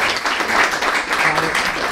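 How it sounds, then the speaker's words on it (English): Applause at a school board work session for a high school, a dense, steady wash of clapping from the room lasting about two seconds. "So round of applause out there for East Jackson County Comprehensive High School."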